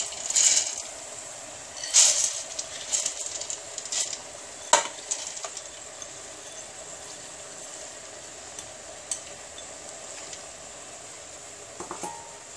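Lentils are added to garlic cooking in a pan for Moroccan rfissa, with a steady low sizzle throughout and a few brief stirring scrapes and clatters in the first five seconds.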